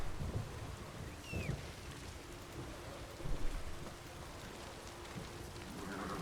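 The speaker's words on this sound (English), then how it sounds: "Well, it's dark and it's raining." Steady rain with low rumbles of thunder in a dark, stormy scene in The Witcher 3: Wild Hunt, a continuous wash of downpour that swells near the middle.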